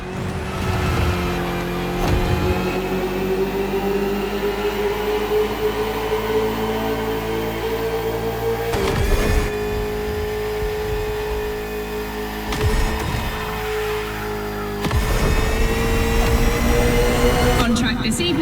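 In The Crew Motorfest racing game, a KTM RC16 motorcycle and a Ferrari 488 GT3 race on a circuit. Engines drone steadily and loudly, with short breaks and shifts in pitch during gear changes.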